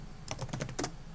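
Someone types on a computer keyboard, a quick burst of about half a dozen light key clicks, close and fairly quiet, with no talking.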